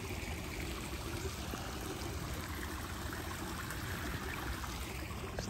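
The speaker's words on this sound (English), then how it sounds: "so the creek flows" A creek flows and trickles steadily through wooded property, its water running at a constant level close by for the whole stretch without any talk over it.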